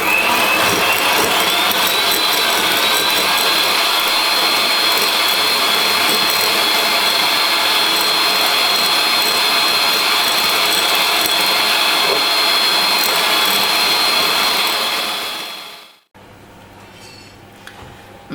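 An electric hand mixer beats egg yolks with sugar for a genoise sponge, giving a loud, steady high-pitched whir that runs unbroken for about fifteen seconds before cutting off abruptly, leaving a quiet room.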